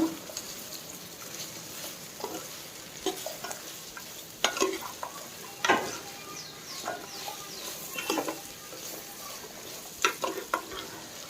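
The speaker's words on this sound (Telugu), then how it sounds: "ఈ మసాలా అంతా బాగా కాలాలి" Masala frying in a pan for a South Indian tomato curry, with sharp scraping stirs and spoon knocks that recur every second or two over a low, steady sizzle, close up with no talking.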